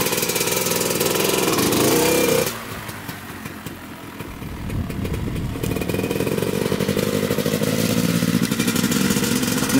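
A 1998 Honda CR250 two-stroke dirt bike engine idles close by, steady and loud with a clattery, uneven running note that dips briefly then comes back strong, sounding a little lean.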